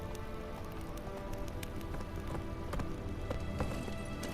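The horse Roach's hooves clop at a steady trot in The Witcher 3, faint and rhythmic under a soft wash of rain.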